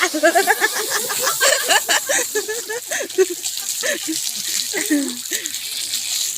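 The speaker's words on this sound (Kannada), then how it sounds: "ಎಲ್ಲರೂ ಪೈಪಲ್ಲಿ ನೀರು ಹಿಡ್ಕೊಂಡು ನೆನೆಯೋಕ್ಕೆ ಶುರುವಾದರು." Water spraying from a hose pipe onto people, a continuous high hiss running beneath lively voices that talk and call out throughout.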